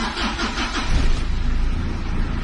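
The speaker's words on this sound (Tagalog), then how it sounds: "i-start yung engine." Ford Everest engine starting: a brief cranking whir followed by the engine catching and settling into a steady, close, rumbling idle.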